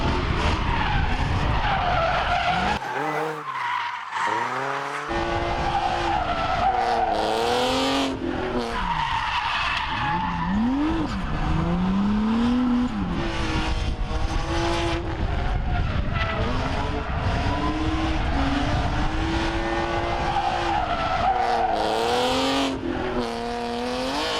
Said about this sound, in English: a local racetrack that provides a safe place for car enthusiasts to practice drifting.